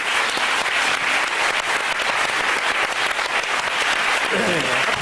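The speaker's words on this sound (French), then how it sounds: "Et on l'applaudit, on accueille Bruno Mazur." A TV studio audience on a French Sunday talk show applauds a guest's entrance, a thick, sustained wash of clapping throughout, with a voice emerging faintly near the end.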